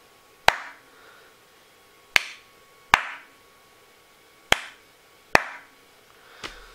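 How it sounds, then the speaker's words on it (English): Single hand claps aimed at a sound sensor module, six sharp, loud cracks spaced irregularly over several seconds, each ringing briefly in a quiet room, with the final clap softer. "I'm going to clap now"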